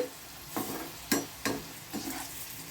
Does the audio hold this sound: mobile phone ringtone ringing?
no